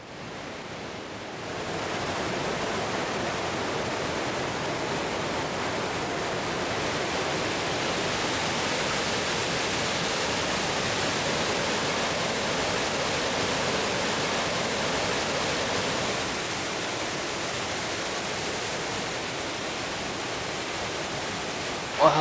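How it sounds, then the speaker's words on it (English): A waterfall gushes down from the bluffs in the Great Smoky Mountains, rising into a loud, constant rushing roar of falling water after a quiet opening second, steady and close, with no talking. "nearby there was an incredible waterfall gushing down from the bluffs."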